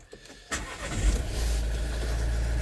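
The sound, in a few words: Vauxhall Vivaro van engine starting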